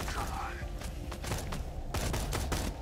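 Rapid shots from a newly acquired gun in Borderlands 2 crack out in a quick burst of sharp reports, followed by a few separate louder shots, with game sounds filling the background.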